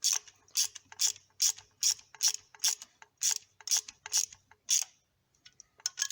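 Hand ratchet driving screws into a homemade fuel line bracket on a 1972 Firebird during restoration, a quick run of about a dozen evenly spaced metallic clicks, close and crisp, then stopping.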